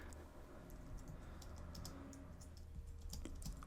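Typing on a computer keyboard while entering coordinates in Minecraft 1.11.2, a quick irregular patter of light key clicks, close and quiet, with no talking.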